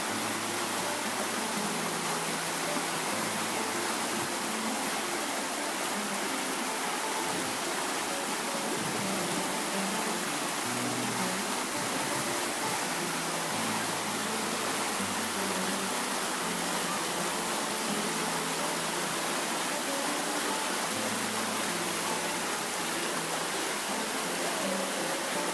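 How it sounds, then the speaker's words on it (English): Water of a spring-fed creek rising out of the ground flows steadily, a continuous broadband rush that holds close and even throughout with no voices. "we've got this amazing creek. It's springing out of there,"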